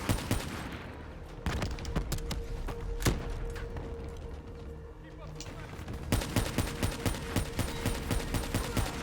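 Automatic gunfire from Black Ops 3, mission Rise and Fall on Realistic difficulty, rattles in dense rapid bursts, eases to scattered shots mid-way, then returns as a steady pounding stream of loud, close rounds.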